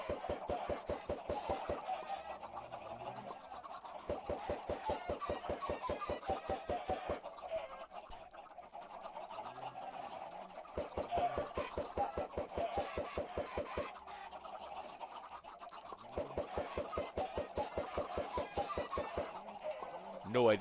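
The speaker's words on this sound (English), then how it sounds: "No idea how many extra chickens we're getting out of this." Minecraft chickens clucking in repeated bursts of rapid, pulsing calls, loud and close, with short pauses between runs, continuing steadily over half a minute of gameplay in a world where trees are being chopped.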